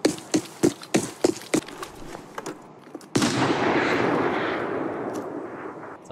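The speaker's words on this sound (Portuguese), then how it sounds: "Tiro de canhão?" A run of about seven sharp, evenly spaced gunshots rings out in the Arena Breakout Infinite video game, followed by a single loud cannon-like boom that decays into a long, fading rumble.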